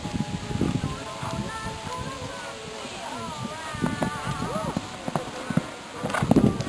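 Rhythmic clip-clop of horse hooves on soft ground at an equestrian competition in Machnice, Poland, mixed with rustling and an announcer speaking over a public address in the background.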